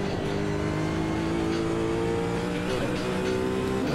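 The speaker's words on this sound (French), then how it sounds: "j'aurais aimé que le bruit du moteur soit un peu plus présent" A hypercar engine in the racing game Automobilista 2 drones steadily at high revs, a constant loud roar with a slight dip in pitch near the end.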